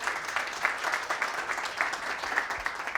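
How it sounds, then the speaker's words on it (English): Applause from the audience at an innovation event, a steady wash of many hands clapping at moderate distance for the full three seconds. "So can we give her a round of applause?"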